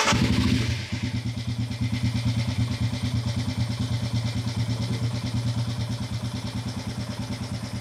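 A Royal Enfield Himalayan 411 single-cylinder motorcycle engine starts and settles into a steady, loud, close thumping idle, each firing pulse evenly spaced with a clattery top end and no voices.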